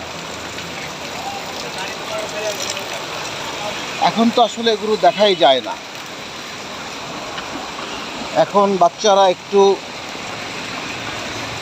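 Steady rain pours down outdoors in a broad, continuous hiss that runs through the whole stretch, with a person speaking over it in two short bursts.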